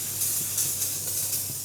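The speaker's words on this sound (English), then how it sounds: "I'm just gonna spray a little bit of oil on it." A steady hiss of oil spraying onto a very hot griddle before cooking smash burgers, continuous and fairly loud with slight pulsing, no voices.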